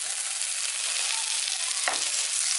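Onion and tomato sauté in a hot pan for a village-style chicken chukka varuval, giving a steady close sizzling hiss with a brief stir or scrape near the end and no talking.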